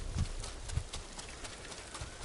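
Horse hooves clip-clop softly at a walking pace in the samurai video game Ghost of Tsushima, a few scattered muffled thuds over a quiet background without talk.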